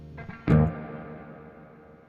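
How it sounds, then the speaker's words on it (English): Spring reverb from a NUX Verb Core Deluxe pedal follows a plucked guitar chord, with a sharp attack decaying into a long, smooth, washy tail over about two seconds. "And now, everybody's favorite, I guess, the spring reverb."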